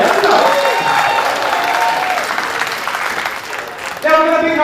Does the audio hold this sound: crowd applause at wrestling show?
yes